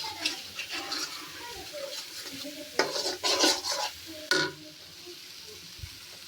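Chicken curry being stirred and sautéed in a pot, with a cluster of loud close scraping and clattering utensil strokes over a light sizzle, then quieter simmering.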